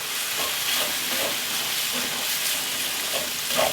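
Onions fry in a pan for onion soup while a utensil scrapes across the bottom, a steady close sizzle with soft rhythmic scraping strokes running through it and no talk.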